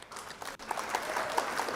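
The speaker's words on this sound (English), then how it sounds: "That also needs another applause as well." Applause from the audience of a live singing show, a short burst of clapping heard at a moderate distance for under two seconds.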